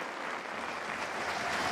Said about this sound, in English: get the applause from the fans who appreciate his efforts